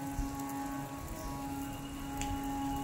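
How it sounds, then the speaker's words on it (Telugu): Artificial rain effect at a temple display, a faint, steady patter of falling water on a surface with a constant background hum and a couple of light ticks. "చూడండి ఇక్కడ వర్షం ఎఫెక్ట్ అనమాట పెట్టారనమాట"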